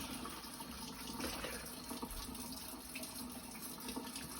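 Tap water running steadily while food is washed in a home kitchen, a continuous close hiss with faint splashing and no talk.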